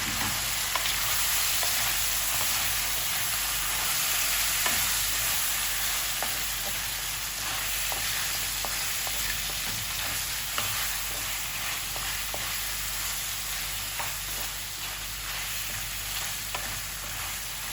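Chicken paksiw simmering and sizzling in a pan, with a constant loud bubbling hiss and light, repeated stirring scrapes throughout, no speech.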